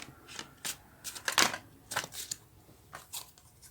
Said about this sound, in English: the cards are not happily shuffling